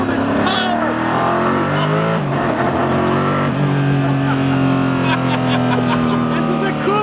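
A Koenigsegg Agera RS supercar engine, the "Phoenix", roars close and loud in a continuous droning run with shifting pitch and no pause.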